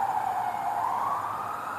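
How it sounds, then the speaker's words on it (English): An emergency vehicle siren on a busy street wails with a steady, rising tone, loud and continuous throughout, over faint traffic rumble. "There's so many sirens over here."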